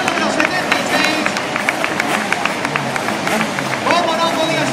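Crowd applause and cheering at a motorcycle road race in Xàtiva as a rider, number 76, rides his lap of honour; steady loud clapping with crowd murmur throughout, a public-address voice speaking over it.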